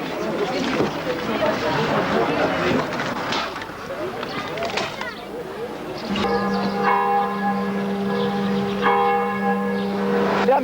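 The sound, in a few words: church bell tolling five o'clock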